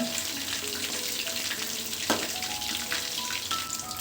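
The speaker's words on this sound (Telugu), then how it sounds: "ఇలా తిప్పుకుంటూ ఒక ఏడు ఎనిమిది నిమిషాల పాటు ఫ్రై చేసుకోవాలి చికెన్ అంతా" Chicken pieces fry and get stirred in a pan for a curry-leaf chicken kabab, giving a steady close sizzle with occasional scraping stirs and no talk.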